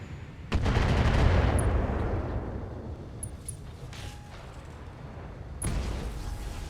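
Mech weapons fire in the BattleTech game: a heavy booming volley erupts and rolls out into a long rumbling decay, followed by a second blast near the end, with small metallic pings between.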